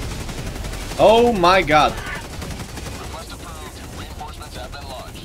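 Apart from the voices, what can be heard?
gunfire in the video game Helldivers 2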